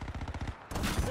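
Rapid gunfire in Black Ops 6 rattles in quick, evenly spaced shots, then gives way to a denser, noisier burst of battle sound, all very short and moderately loud.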